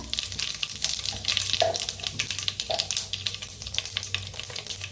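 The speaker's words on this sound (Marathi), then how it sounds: "आता तेल चांगलं गरम झाले त्याच्यात टाकूया मोहरी" Mustard seeds and cumin sizzle in hot oil for sambar, a moderate continuous crackle with scattered pops, spitting bursts and a couple of stirring clinks, close and without speech.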